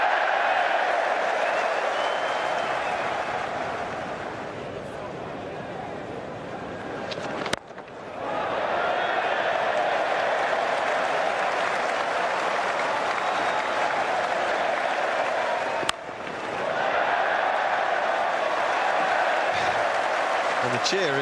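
A crowd at Lord's roars and applauds during an England versus Australia one-day final for a boundary: a sustained, loud wash of cheering and clapping from a large stadium crowd, with two sharp knocks cutting through.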